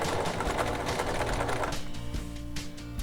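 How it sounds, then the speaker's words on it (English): Sewing machine running fast and steady with a dense mechanical chatter as it stitches down a narrow fabric strap at short stitch length; close and fairly quiet, with a brief slowdown near the end. "I'm just gonna stitch all the way down."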